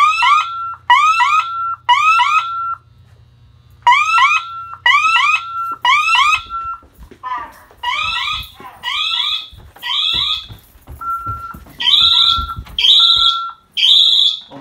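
A LAPG8 alarm sounder on a Safewatch Pro alarm system blares repeated loud, shrill electronic chirping bursts in steady rhythmic groups, close and piercing, with a low hum underneath at first.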